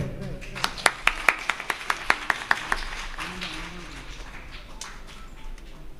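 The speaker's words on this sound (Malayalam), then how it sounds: "കൈയടി വരട്ടെ." Audience applause at an honouring ceremony during a Rishi Panchami celebration in Thiruvalla: a run of sharp, rhythmic claps that builds then thins into scattered clapping, with a voice speaking over the room.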